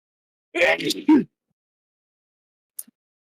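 One quick, close sneeze bursts out at a tabletop role-playing game session, then the room falls almost silent apart from a faint click.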